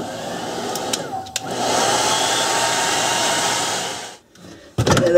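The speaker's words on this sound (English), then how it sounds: "so I'm just going to use a hair dryer." A hair dryer roars steadily at close range for several seconds melting ice in a Kenmore Elite freezer, then cuts off, followed by brief clattering knocks.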